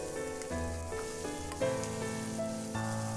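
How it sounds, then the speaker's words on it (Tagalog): Squash and tomato sautéing together for pakbet, a steady soft sizzle running under a background tune, with no one speaking. "Ihalo lang din ng mabuti para maigisa na rin natin yung kalabasa"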